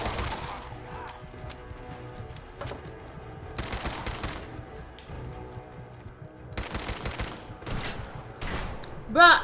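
Video-game gunfire from raiders rattles in dense bursts and rapid volleys, loud and close, separated by brief lulls, with a sharp metallic clatter at the end.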